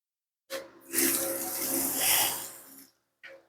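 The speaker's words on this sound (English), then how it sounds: "I'm gonna wash it just to make sure there's no chemical residue." Water sprays onto a car's paint while it is being washed after a ceramic spray coating test, a steady rushing hiss lasting a couple of seconds and then a short final burst, close by with no talk.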